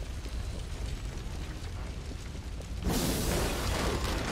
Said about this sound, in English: The powder stores, they're going to blow!